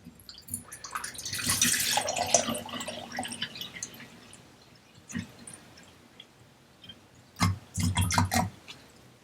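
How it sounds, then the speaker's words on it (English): Water, about 500 ml, is poured into a Brown's gas unit indoors, with splashing and trickling bursts separated by quieter gaps and a few sharp drips. "So I'm going to go ahead and fill this up with about 500 milliliters of water."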